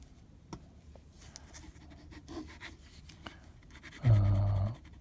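Fine, slightly flexible fountain pen nib with worn plating scratching across paper in quiet, faint intermittent strokes, followed by a brief louder scrape near the end.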